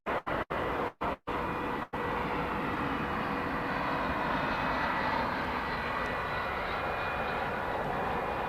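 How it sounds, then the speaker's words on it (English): An American Airlines Airbus A321 landing at Dallas Fort Worth airport gives a steady, broad engine roar heard at a distance. Several brief dropouts break the opening two seconds, then the roar continues evenly without any voices. "American Flight 2012, an A321, coming in from the left-hand side of your view screen."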